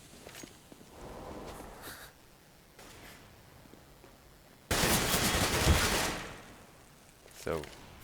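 Rapid automatic rifle spray in a Counter-Strike match on de_dust2, heard as a loud dense burst of shots lasting over a second midway, after quieter game ambience and scattered faint footsteps, with a short sharp report near the end.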